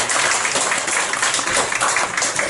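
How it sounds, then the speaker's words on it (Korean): A church congregation at a Korean Sunday worship service claps to welcome a speaker, a thick, continuous burst of many hands filling the room at close range with no break. "우리 박수로 환영해 주시기 바랍니다"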